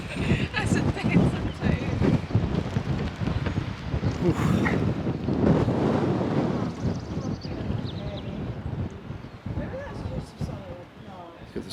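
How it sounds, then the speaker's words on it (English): Strong wind buffets the microphone beside Loch Ness near a castle, a steady broadband roar with gusts throughout, mixed with faint water and possible boat sounds. "It's very windy."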